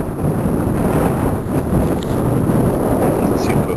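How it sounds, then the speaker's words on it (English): Wind blows steadily against a hemlock tree on the Shawangunk ridge, a loud, continuous rushing roar that buffets the microphone throughout, with no clear pauses. "The wind blows against that hemlock tree."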